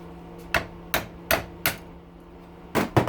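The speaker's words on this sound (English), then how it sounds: "we use the screwdriver to pop it out" A screwdriver prying a copper scrap part loose, giving sharp metallic knocks: four spaced taps, a pause, then two more, close and without speech.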